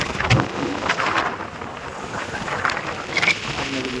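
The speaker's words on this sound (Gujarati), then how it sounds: "વરસાદ છે ને કન્ટિન્યુ એટલે કન્ટિન્યુ ચાલુ છે" Continuous rain falls in a steady hiss at home around late morning, with faint scattered patters and brief gusts; no voices, fairly quiet and even throughout.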